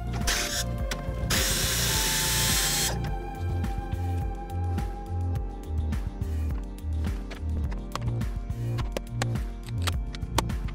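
Pneumatic air ratchet spinning bolts off a 1989 Jeep Cherokee during teardown, a loud hissing burst of air at the start followed by repeated rapid ratcheting whirs and clicks in steady short bursts, close up.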